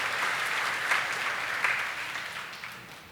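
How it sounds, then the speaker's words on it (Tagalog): A church congregation applauds at a 30th anniversary service, giving a dense, even wash of clapping that swells slightly partway through and then tapers off toward the end. "Palakpak ta para sa Ginoo."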